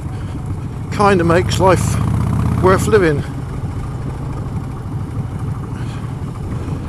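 A Harley-Davidson Street Bob's engine drones low and steady on a sunny ride, with someone talking over it in wind noise.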